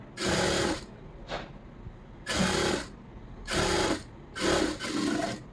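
Sewing machine stitching a lining blouse, running in four or five short bursts of a second or so each, separated by brief pauses, close and clear with no talking.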